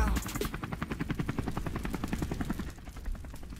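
Rapid rhythmic thumping of helicopter rotor blades, loud and close, a fast steady chop that fades slightly toward the end.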